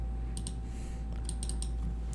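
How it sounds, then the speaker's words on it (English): Several quick, crisp mouse and key clicks on a computer, a double-click followed by an Enter key press, sounding close and sharp over a steady low electrical hum. "If I double click on this again"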